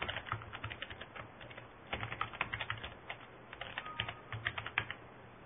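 Computer keyboard typing an email address into a web form, quick uneven runs of soft key clicks with brief pauses between bursts, close and fairly quiet.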